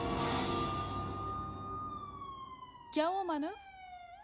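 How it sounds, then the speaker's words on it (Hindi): Sirens from an ambulance and a police car wail in long sustained tones that slowly sink in pitch as they pass by, with a brief spoken question breaking in near the end. "पता नहीं, एक एम्बुलेंस है और एक पुलिस कार है।"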